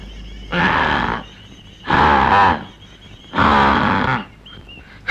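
Three loud, drawn-out braying calls with pauses between them, a voice imitating a donkey, up close.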